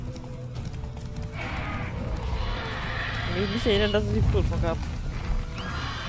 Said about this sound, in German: Warum gibt's hier eigentlich so viele Wildpferde?